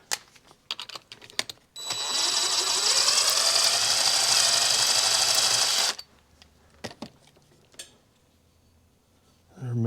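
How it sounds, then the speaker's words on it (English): A thread tap driven through the bolt hole of a homemade crankshaft separator for a Yamaha HS1 90cc twin, a steady high grinding whir lasting about four seconds, close and loud, framed by scattered clicks and taps. "I think maybe I'll run a tap through this one again"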